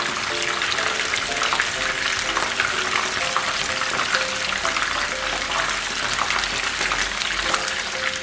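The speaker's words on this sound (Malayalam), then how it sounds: "ഹൈ ഫ്ലെയിമിലിട്ട് ഒരു 5 മിനിറ്റ് മാക്സിമം തിരിച്ച് മറിച്ചിട്ട് മൂപ്പിച്ചെടുക്കുക" Prawn sticks fry hard over a high flame in hot oil, a dense, steady sizzle that fills the whole stretch, with faint scrapes as the pieces are turned over.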